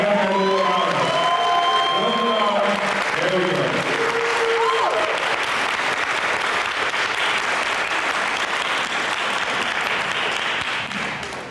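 Applause from an audience at a human rights awards ceremony, a broad dense clatter of clapping that runs loud and steady for the whole stretch with a few cheers, while a voice speaks briefly near the start.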